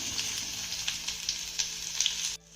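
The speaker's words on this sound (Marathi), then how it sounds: "त्यानंतर एक मोठा उभा चिरलेला कांदा यामध्ये घालायचा आहे" A large, lengthwise-sliced onion sizzles steadily in a hot oiled pan, with a few soft stirring scrapes, and the sound cuts off abruptly near the end.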